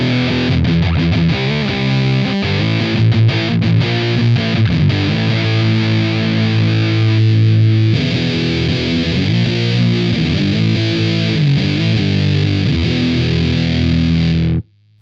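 A thick, fuzzy electric guitar through a fuzz pedal plays a continuous riff with a scooped, hollow midrange, loud and up close, then cuts off abruptly.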